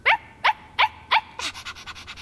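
A small dog lets out four sharp, high-pitched yaps at an even pace, followed by a quick run of softer, rapid yips.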